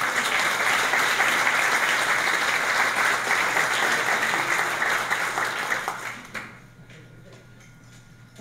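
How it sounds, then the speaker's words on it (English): A dense wash of audience applause at a community business breakfast, loud and continuous for about six seconds, then tapering off sharply into quiet room tone. "Let's have him a round of applause for Naldo."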